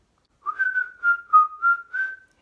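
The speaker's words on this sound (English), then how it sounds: "Can you whistle?" A person whistles a short, wavering tune of about five or six notes, clear and close, alone with no talking.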